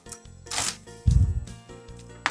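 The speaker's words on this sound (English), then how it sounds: "Garlic, we're going to cut it in half" A kitchen knife splits a whole garlic bulb in half on a cutting board: a short, crisp crunch followed by a dull thud of the blade meeting the board, close and alone.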